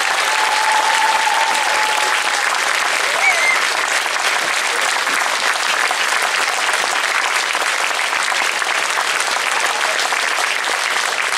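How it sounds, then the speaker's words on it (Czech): Sustained, loud applause from an audience for a group of bagpipe players after a grand bagpipe finale, steady dense clapping filling the whole stretch with faint crowd murmur underneath. "o závěrečný velký potlesk pro naše všechny dudáky"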